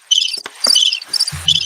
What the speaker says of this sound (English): It was a cricket.